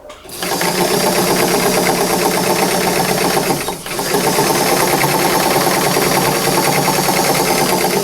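Sewing machine stitching skirt fabric along the edge of the presser foot, a loud, fast, continuous mechanical hum close by, with a short dip near the middle before it resumes at full speed.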